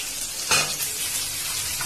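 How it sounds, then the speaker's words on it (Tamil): Steady sizzling of dried chillies frying in a pan, with a brief louder crackle near the start and continuous hiss throughout. "காய்ந்த மிளகாய் போட்டு நல்லா வதக்கலாம்."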